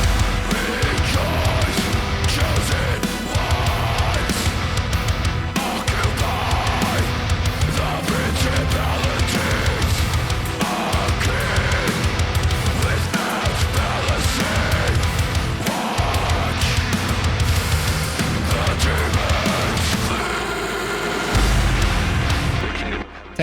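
Metal screams processed with a formant plug-in, sitting in a finished full-band mix with heavy distorted guitars and pounding drums, dense and loud throughout, ending abruptly.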